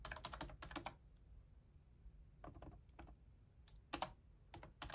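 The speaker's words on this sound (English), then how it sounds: "Okay, so yes, you can type on this." Someone types on an external keyboard paired with a Boox Palma, making short bursts of quick key clacks split by pauses against a low background hum, with no speech.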